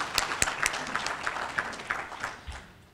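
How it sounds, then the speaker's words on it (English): A small reception audience claps for a visiting Indian delegation, scattered individual claps that thin out and fade toward the end. "I just like to have a good applause for our delegations who came all the way from India."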